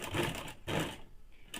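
Sewing machine stitching woolen fabric for a baby frock, two short bursts of running needle chatter separated by brief pauses, close and fairly quiet.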